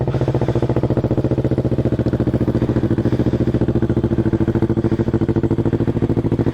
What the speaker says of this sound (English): let's listen to this sucker at startup